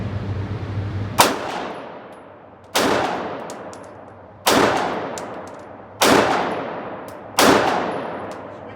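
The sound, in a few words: handgun shots fired single-handed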